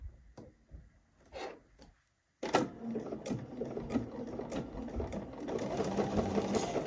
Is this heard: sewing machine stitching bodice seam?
yes